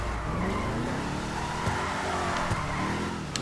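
A Weeny Dynasty car in GTA Online power-slides, its tires squealing in long, wavering tones over a steady engine drone, loud and continuous throughout.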